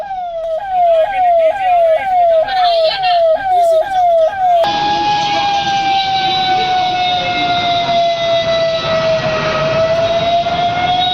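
An ambulance siren blares loud and close, first in a rapid repeating yelp, then switching to a long steady wail over street noise.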